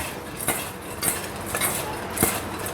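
Shrimp heads tossed with salt in a bowl, giving a run of bright, close clinks and scrapes about every half second, with no voices.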